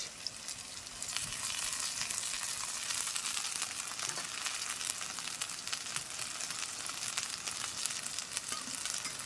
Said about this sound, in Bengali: এবার মশলাটাকে ভালো করে কষে নেবো